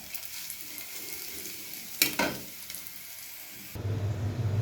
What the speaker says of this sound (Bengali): রসুন আর পেঁয়াজটা বাদামি কালার করে নেব ভাইজে